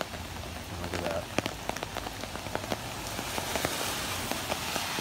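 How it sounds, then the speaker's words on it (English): Heavy rain pours during a thunderstorm in New York City, a dense, loud, continuous patter with sharp drips and splashes close by. "Yeah, it's pretty heavy rain."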